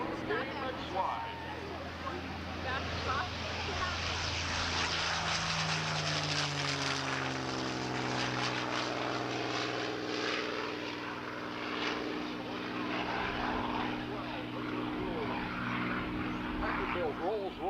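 Piston propeller aircraft powered by Rolls-Royce Merlin engines, flying at a 1995 Sussex airshow, a loud sustained drone with a slowly shifting pitch as it passes, while a commentator talks over it.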